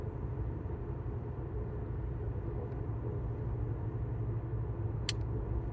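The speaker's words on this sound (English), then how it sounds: "There's a truck out on the highway." Truck rolling along a distant highway, a low, steady rumble of tires and engine carried from afar, faint and unbroken, with a brief sharp click near the end.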